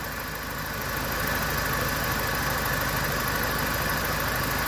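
A car engine idles steadily with a low, even rumble and faint vibration, close by and continuous throughout.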